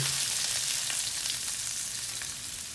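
Onions frying in oil in a pan for canned tuna macaroni pasta, a steady close hiss and sizzle with faint crackles throughout and no talking.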